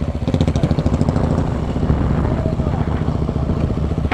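A motorcycle engine roars loud and close in a drag race, a steady pulsing drone throughout, with voices talking over it.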